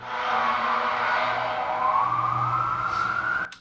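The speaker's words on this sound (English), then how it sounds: "lights and sirens go past you" A wailing siren sweeps steadily upward over a continuous rumble of traffic, loud and close, fading out at the end.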